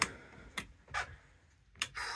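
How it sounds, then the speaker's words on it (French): A small clock in a 1990 Hymer B564 motorhome ticks faintly and close by, a few soft clicks at an irregular pace in a quiet interior. "Là, la petite pendule."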